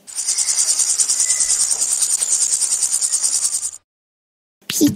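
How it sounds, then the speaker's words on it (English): A grasshopper chirping in a dense, continuous high buzz that pulses rapidly for nearly four seconds, loud and close, then stops abruptly before a brief different sound at the end. "Grasshopper."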